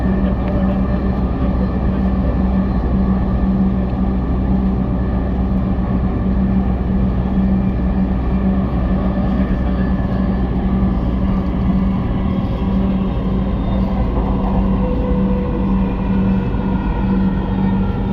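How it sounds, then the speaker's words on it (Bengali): Dhaka metro train running toward Uttara North, a steady loud rumble and hum inside the car, continuous and even with no speech. "This train is bound for Uttara Uttar."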